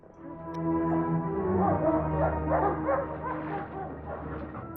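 Dogs in a movie scene give several low woofs and whimpering yips, fairly close and rising to a peak partway through before easing off.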